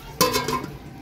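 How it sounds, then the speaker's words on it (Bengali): A metal lid comes down on a cooking pot of fish curry with one close clang that rings briefly and fades. "ঢাকা দিয়ে দেবো।"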